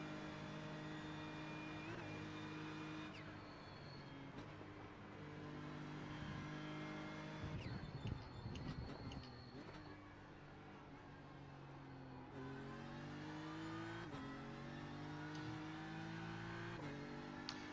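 Porsche race car engine in a racing game on the Nürburgring, a continuous faint engine whine with rising and falling pitch sweeps through gear changes, including a busy rougher patch midway, with no talk over it.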